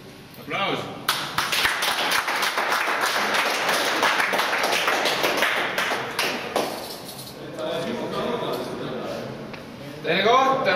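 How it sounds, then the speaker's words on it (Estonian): A podium ceremony at a kart racing team competition, with a sustained burst of audience clapping that fades around the middle and leaves an announcer speaking, who stays audible under the clapping throughout. "Aplaus!"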